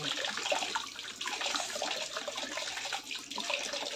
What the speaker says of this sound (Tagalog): lagyan siya kunting tubig sa baba